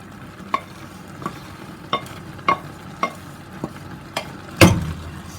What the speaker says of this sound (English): I'm going to empty each of my beans into this and stir fry it